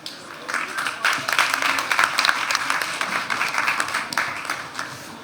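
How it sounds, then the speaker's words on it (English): Audience applause for panelists at a Cannes Lions festival session, a dense, steady wash of many hands clapping from a sizeable crowd, sustained throughout at moderate loudness with no talk over it. "a round of applause for our panelists"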